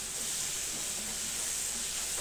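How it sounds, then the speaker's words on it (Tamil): Ginger garlic paste sautéing in a pan, giving a steady, close sizzling hiss that holds evenly throughout with no talk over it. "இஞ்சி பூண்டு பேஸ்ட்டும் நல்லா வதங்கட்டும்."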